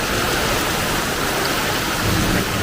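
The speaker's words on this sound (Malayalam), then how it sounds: "നല്ല മഴയാണ്." Heavy rain pouring down in a dense, unbroken hiss, loud and close throughout with no voices.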